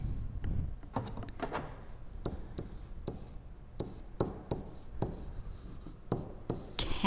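Marker strokes on a board while solving linear inequalities, a run of short squeaky scratches in uneven rhythm, close and fairly quiet with a few sharper taps between lines.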